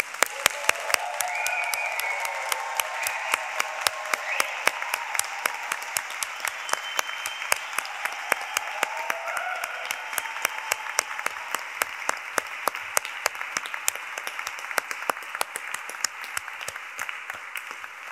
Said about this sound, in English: we can give you a massive round of applause